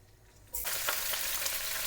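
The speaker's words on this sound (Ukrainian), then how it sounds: "Смажуємо курку." A steady, loud sizzle of homegrown chicken frying in a hot pan, starting abruptly after a quiet moment and crackling continuously.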